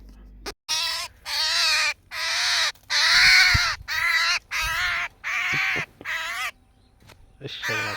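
An injured wild bird held in a hand gives about eight loud, harsh, crow-like squawks close to the ear, each separated by a short gap, with a little handling noise between them.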